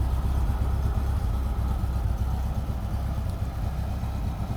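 A Jeep Comanche pickup that has sat unused idles roughly as it warms up, a steady low engine rumble running on its own throughout without talk.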